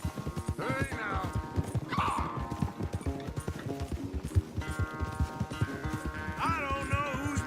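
Horse hooves clip-clop rapidly in a steady galloping rhythm during a race in Red Dead Redemption 2, mixed with game music and character voices talking over the pounding hoofbeats.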